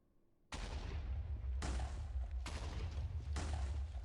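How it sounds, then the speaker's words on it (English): A line of TNT detonates in a video game as a chain of loud, deep booming blasts, four heavy explosions back to back after a brief quiet start, with no talk. "I just have a beautiful line of TNT."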